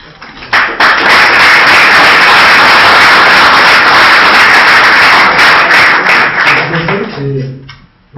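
Sustained applause from an audience at a Latin American social theory conference session, a dense steady wash of clapping lasting several seconds before thinning out, with a voice beginning to speak near the end.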